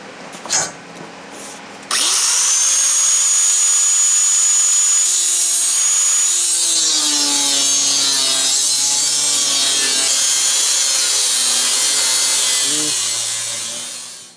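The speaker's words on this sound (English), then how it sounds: "it's pretty hard cutting through this thicker material with these zip cuts" A zip cut cutoff disc grinds through thick steel plate, a loud, continuous high-pitched shriek after a few brief start-up taps, its pitch wavering as the disc loads and slows, then fading out at the end.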